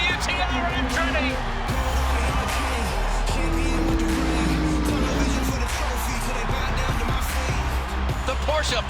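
IMSA sports-prototype and GT race cars roaring continuously at a racetrack such as Sebring, dense loud engine noise with passing cars and shifting pitch throughout, no clear talk over it.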